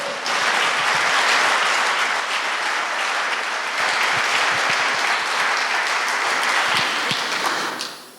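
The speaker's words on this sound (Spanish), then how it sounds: "Pueden levantarle un aplauso a mi Señor." A church congregation applauds, sustained loud clapping that fills the room for several seconds before tapering off at the end, with no speech.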